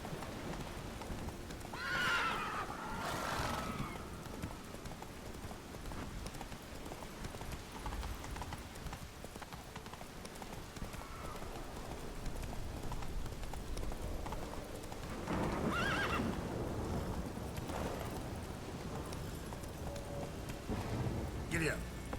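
In the video game Witcher 3, a horse's hooves clip-clop at a gallop while it neighs and whinnies several times over a soft background. A voice talks over parts of it.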